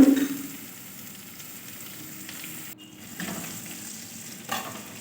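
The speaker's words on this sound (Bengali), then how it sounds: "দিয়ে দিলাম গাজর যেটা গ্রেট করে রেখেছিলাম দিয়ে দিলাম টমেটো পরিমাণ মতো নুন" Grated carrot, tomato and salt frying in a pan for a potato egg sandwich filling: a steady, soft sizzle with occasional stirring scrapes, close and continuous, with no voices.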